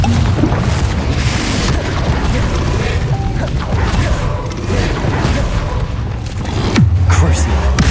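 Confringo explosive spell blasts in the Hogwarts Legacy video game, a run of loud booming crashes and impacts with mechanical clatter, one heavy low boom standing out near the end, while a voice talks over the action.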